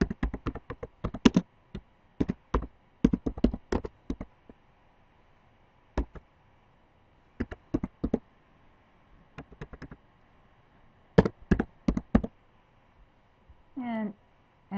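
Bursts of close computer keyboard typing in a spreadsheet program, quick clusters of crisp key taps separated by pauses, with a short voice sound near the end.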